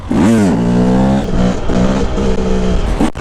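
A Husqvarna TE 300i two-stroke dirt bike engine revs up sharply, then holds a buzzing, wavering pitch close by before a second quick blip at the end.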